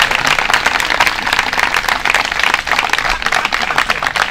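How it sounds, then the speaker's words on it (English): Steady applause from a lecture audience after a talk on kirtan dancing, dense and continuous throughout with no pauses, filling the room at a fairly loud level. "If you like, you can clap."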